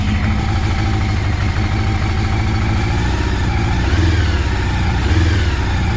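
Honda CBR 750 Hurricane motorcycle engine running on its first start in three years, a loud, close, continuous mid-pitched idle with slight unsteadiness and small rises in revs.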